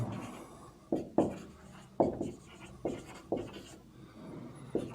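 Notes are written during a physics lecture on force and equilibrium, a close pen or marker scratching across a surface in short irregular strokes with small taps, fairly quiet and with no talk.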